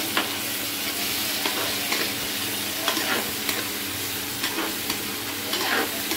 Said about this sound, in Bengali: আদা রসুন আমি একটু ভাজে নেব